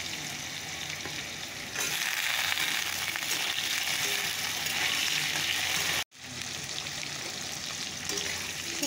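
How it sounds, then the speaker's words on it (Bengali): Potatoes and tomato frying in hot oil, a dense loud sizzle that jumps louder partway through and cuts out for an instant before resuming, close up with no voices. "তো আলুটা ভেজে নিই একটু"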